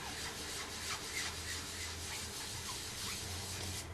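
Sponge dabbing Bashful Blue ink onto a heat-embossed Whisper White paper card, making soft, faint, repeated scuffing and rubbing strokes against a low background hiss.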